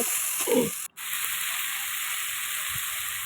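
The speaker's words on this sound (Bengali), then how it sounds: "স্বাদ মতো লবণ দিয়ে ভালো করে মশলাটাকে নেড়ে ফেড়ে কষিয়ে নেব" Spice paste with salt sizzles steadily in a hot pan for a river bele fish curry. There is a brief scrape of stirring, a short gap, and then the constant hiss of frying resumes nearby.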